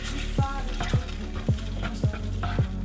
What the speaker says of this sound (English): And we're gonna stir that and cover that, let it simmer for about 10 minutes.